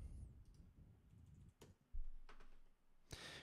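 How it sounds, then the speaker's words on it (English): Faint, quick keystrokes on a computer keyboard as an account name is typed, a brief flurry of soft clicks with a louder key press near the end, heard alone in a quiet room. "we're just going to type in what we want our account name to be"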